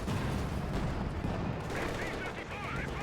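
Machine gun fire in a Company of Heroes 2 battle between Wehrmacht and Soviet forces rattles in dense, continuous bursts amid other battlefield noise, with a commentator's voice running underneath.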